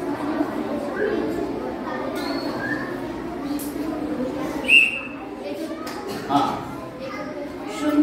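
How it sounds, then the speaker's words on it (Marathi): A single short, shrill whistle blast cuts through a room full of children's chatter and talking during a quiz. "शिट्टी वाजली"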